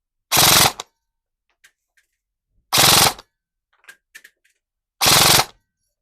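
An Archon Gen3 airsoft rifle fires three short full-auto bursts, each a rapid mechanical rattle lasting about half a second, separated by quiet pauses with faint clicks and handling noises between them.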